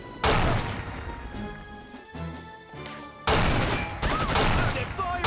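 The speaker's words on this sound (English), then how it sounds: "They're firing!" Gunfire in the PC shooter No One Lives Forever, loud, dense bursts of shots and crashing impacts at the start and again after a short lull, with some game voices mixed in.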